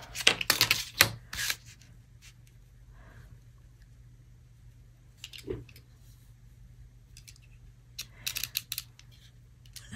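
Scissors snipping through paper while a mini pocket book is being made: several quick bursts of close crisp cuts early on, a pause, then another cluster of snips near the end, with no talk.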